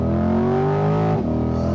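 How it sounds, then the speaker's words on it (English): A 2020 Chevrolet Corvette's loud exhaust in track mode revs with a raspy, rising tone, then briefly drops as the dual-clutch gearbox shifts before the roar picks back up. "Now listen to how amazing this exhaust sounds in track mode."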